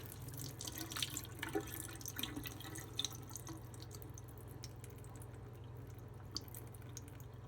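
Liquid from opened cans of mushrooms and bamboo shoots drains out in a steady, close trickle with scattered drips and splashes, continuing evenly for several seconds with no talking.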